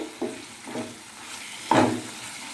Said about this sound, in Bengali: আবার কষানোর পরে দেখুন তেল ছাড়ছে আবার গ্যাসের জোরটা একটু কমিয়ে টাইম বেশি নিয়ে কষতে হবে